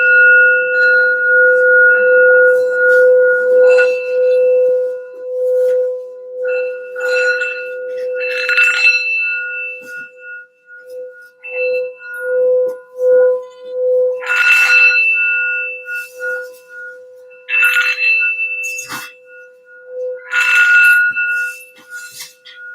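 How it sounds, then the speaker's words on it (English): A sound bell rung repeatedly for grounding and healing, bright sustained metallic tones ringing and decaying, with clusters of clinking strikes layered over a long steady hum, loud and close throughout. "I'm going to do a little sound bell here for some grounding and healing for the reading first"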